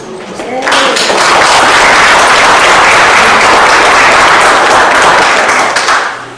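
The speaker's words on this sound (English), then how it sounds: "I hope you're clapping God, not me." Church congregation clapping after a personal testimony, applause swelling quickly to a loud, thick roar and holding steady before tapering off at the end.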